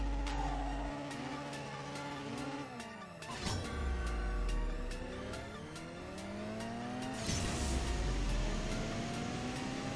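Engine revving hard in the CSR2 racing game as a Tempest 3 launches off the line, with rising gear sweeps, an abrupt surge near the start and another mid-run, loud and continuous over a steady synthetic ticking.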